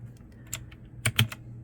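A few quick clicky keystrokes on a 60% compact wired mechanical keyboard as the FN and Alt keys are pressed, close and crisp over faint background hum.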